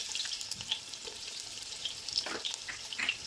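Finely sliced onions fry in hot oil for a prawn biryani garnish, giving a soft, steady sizzle with light crackles and a few faint clinks of stirring, with no talk.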